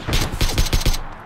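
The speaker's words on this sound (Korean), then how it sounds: "나 쏘고 있어." Rapid automatic gunfire from the online shooter PUBG Battlegrounds, about six sharp shots in quick rhythmic succession, close and loud, with no talk over it.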